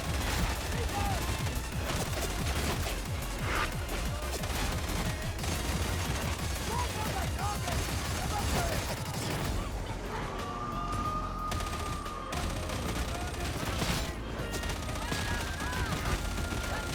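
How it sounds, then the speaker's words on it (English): Rapid, relentless gunfire in Warhammer 40,000: Darktide, a dense stream of shots crackling nonstop for the whole stretch, with a voice talking now and then beneath it. "it's like doubling up on the firing sounds"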